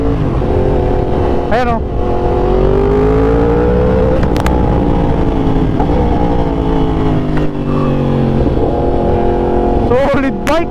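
A sports motorcycle revs hard and pulls through first and second gear, its engine note climbing and dropping with each shift; loud and close throughout, with someone talking excitedly over it.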